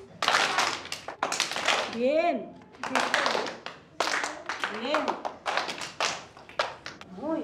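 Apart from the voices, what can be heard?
children clapping along in a reading game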